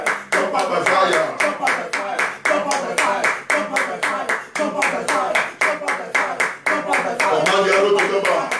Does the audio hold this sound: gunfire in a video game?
no